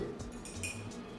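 Cutlery clinks against a plate holding microwave chocolate mug cakes, a few light metallic taps close and quiet.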